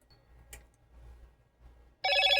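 A phone rings in a tiny house kitchen, a bright bursting ringtone that starts suddenly near the end after quiet room noise and a brief clatter.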